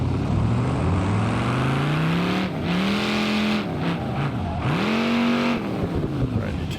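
A lifted-then-lowered V8 gasser in the BeamNG.drive driving game, its engine revving up and down in repeated rising and falling sweeps, loud and close, with brief tire squeal and a voice talking over it.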